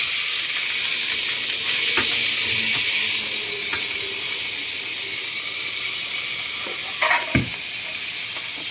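Fish frying in a pan, a loud continuous sizzle with crackling spatters, easing slightly partway through, plus a couple of sharp utensil clinks near the end.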